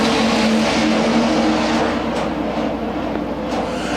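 Hobby stock race cars racing at Crawford County Speedway, a loud, dense roar of engines passing close with a sustained throbbing drone throughout.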